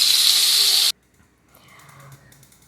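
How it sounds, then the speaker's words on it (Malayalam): Mullan fish sizzling in a frying pan gives a loud, bright hiss for just under a second, then cuts off abruptly, leaving faint background sound. "പിന്നെ വറക്കാനുള്ള മീനും കൂടി വറുത്തെടുക്കുന്നുണ്ട് കേട്ടോ"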